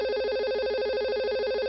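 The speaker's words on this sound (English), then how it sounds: "I don't need a phone call right now." Steam call ringtone on a computer: a repeating electronic tone pattern with a bright pulsing melody, steady and clear, alone for under two seconds.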